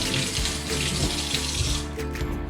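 Cold water pours from a kitchen tap into a container, a steady splashing gush that stays close and fairly loud, tapering slightly near the end.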